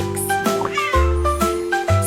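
A cat meows repeatedly in short, clear calls over a bright musical backing in a children's counting song.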